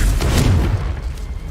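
A deep, rumbling blast from the Confringo blasting curse in Hogwarts Legacy, one heavy booming explosion that fades out across the short moment, with no voices.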